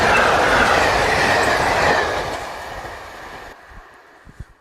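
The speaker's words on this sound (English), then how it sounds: "Once the train has passed" A train passes a railway crossing, loud and close with rumbling wagons and wheel noise at first, then fading away over a few seconds until only faint clunks remain.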